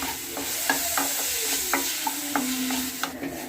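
Chopped onions and two tomatoes sauté in a pan for a ground masala, giving a steady sizzle of frying with intermittent scraping taps of a spatula stirring the pan, close and moderately loud, with no talking.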